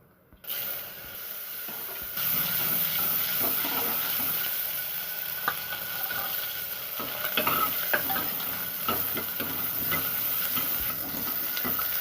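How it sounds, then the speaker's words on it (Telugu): Dried red chilies, cumin, onion and garlic fry in hot oil for a tempering, a steady close sizzle with occasional pops and stirring scrapes, no talk. "వేయించుకోవాలి బాగా వేగాలండి"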